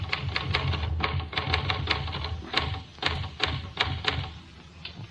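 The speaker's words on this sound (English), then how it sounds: "Well, Lucia, why have you stopped typing?" Rapid mechanical typewriter keystrokes in an uneven rhythm with sharp clacks, close and fairly loud, with no voices, set in an old radio drama.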